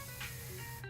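A short, steady burst of spray from an air compressor spraying paint, a continuous hiss with a faint hum underneath, cutting off near the end. The compressor may have a fault.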